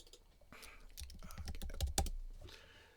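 Lyrics are typed on a computer keyboard in a quick, uneven burst of close key clicks and taps lasting a few seconds, fairly quiet overall with no voices.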